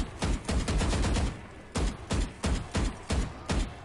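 Gunfire from tap firing in a video game, a steady series of short, loud, close shots, several tightly spaced and then evenly paced single taps after a brief pause.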